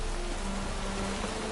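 Steady hiss of rain falling in a PS4 video game, a dense, even wash of drops with a faint low hum underneath and no talking.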